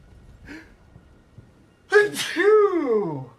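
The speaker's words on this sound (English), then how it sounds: "I was so focused on sneezing that it just never occurred to me" A person sneezes once, loud and close: a short indrawn breath, then a sharp burst that trails into a drawn-out voiced exhale after a quiet pause.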